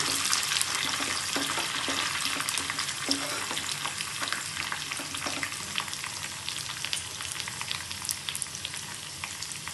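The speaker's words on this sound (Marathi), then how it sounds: "कोथिंबीर घालून घ्यायची कोथिंबीर पण छान फरफट होऊ द्यायची" Fresh coriander frying with garlic in a pan over low heat for garlic chutney, a steady dense sizzle with scattered crackles and stirring scrapes running throughout, no voices.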